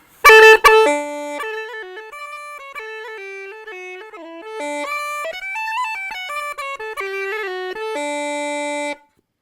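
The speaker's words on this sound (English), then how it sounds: "the chanter sounds like this" An uilleann pipes chanter plays a lilting melody alone, reedy, starting with a few sharp squeaks and then running through bright, sustained notes.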